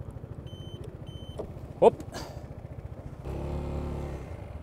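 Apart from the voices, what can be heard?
Piaggio MP3 Yourban maxi-scooter engine starting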